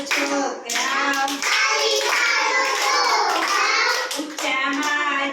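Small children in an Anganwadi preschool clap in a rhythmic game, repeated crisp hand claps landing in quick bunches between and under lively group chanting by the kids.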